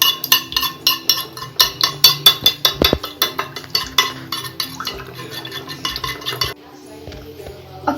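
A spoon clinks rhythmically against a bowl while milk is stirred into a mixture for Nutella strawberry rolls, quick repeated scraping taps for several seconds, then a quieter stretch.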